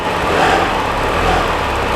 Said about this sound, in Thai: ลองเร่งเครื่องนิดหน่อยนะครับ